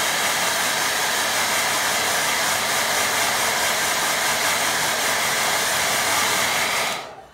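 A hair dryer blows steady, loud, close hiss-like air over a watercolour painting for several seconds before shutting off abruptly near the end.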